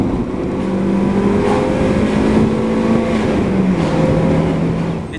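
A Mazda Miata, a two-seat roadster with a front four-cylinder engine and rear-wheel drive, drives a back road. Its engine drones steadily and fairly loudly, with the pitch shifting slightly as it pulls along, and no voices are heard.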